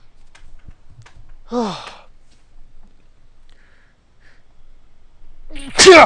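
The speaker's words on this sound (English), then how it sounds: "I hate when I got to sneeze and it just won't go" A man's stifled, aborted sneeze: a sharp nasal gasp and breathy burst with a rising pitch, then a louder, fuller sneeze-like burst close to the mic at the end, with quiet clicks between.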